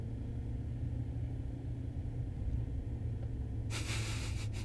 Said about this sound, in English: I'm just going to have to keep driving around until we figure it out.